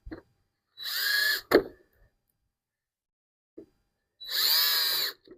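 A power drill drives screws into plastic shed panels in two short whirring bursts about three seconds apart. A sharp knock follows the first burst, and light clicks fall in the pause between them.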